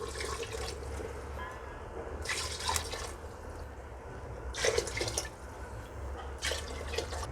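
Water is poured into a pressure cooker of mutton biryani in three short splashing bursts, with a low steady kitchen hum between them.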